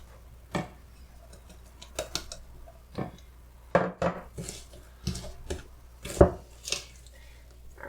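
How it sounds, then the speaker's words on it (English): Spoon scraping and tapping in a bowl while flour, baking soda and salt are stirred into homemade chocolate chip cookie dough, heard as scattered soft knocks and clicks at an uneven rhythm, close and fairly quiet. "Just gonna stir that in until it's fully incorporated."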